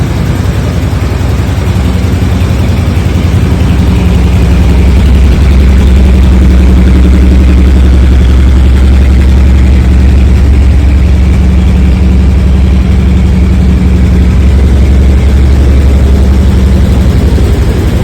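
1984 Ford E350 van engine idling, a loud low continuous rumble with steady throbbing pulses, close up and without talk throughout.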